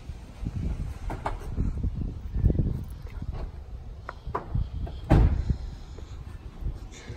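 Manual sliding door of a 2006 Toyota Sienna minivan, with a series of thuds and rolling knocks, the loudest slam near the end, under steady background noise.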